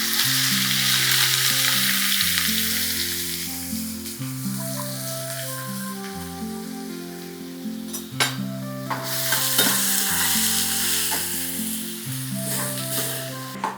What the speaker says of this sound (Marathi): हा सगळा कांदा आपल्याला या तेलामध्ये चांगला परतून घ्यायचा आहे